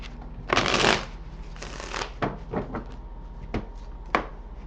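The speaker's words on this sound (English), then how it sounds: "Okay, give a couple shuffles here." Tarot cards being shuffled by hand close up: a couple of quick riffling bursts followed by several sharp taps and slaps as the deck is squared.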